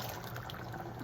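Water pours into a pan of cooking bitter gourd, a soft steady liquid rush that stays faint and even for about a second.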